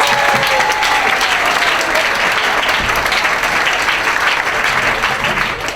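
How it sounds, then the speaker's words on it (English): A live audience applauds a first-time stand-up comedian in a steady, loud, dense clapping that holds evenly throughout, with no voices over it. "Thank you for the 6 people who applauded"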